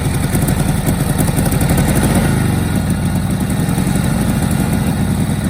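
A Harley-Davidson motorcycle engine idles loud and close, dropping from a quick throttle blip around the middle into a steady, lumpy low-pitched putter.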